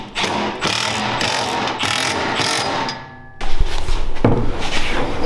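Bolts on the bed enclosure of a Honda Talon 1000X-4 side-by-side are tightened with a ratchet. Rapid clicking bursts come in quick rhythmic strokes and are heard up close. Near the end come a few heavier metallic knocks.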